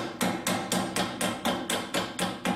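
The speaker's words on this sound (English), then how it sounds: "So loosen the bolts off, give them a tap with the hammer," Hammer striking the 11mm steering pinch bolts on a Land Rover, about ten sharp, evenly spaced metallic taps at roughly five per second, close and loud with no talk.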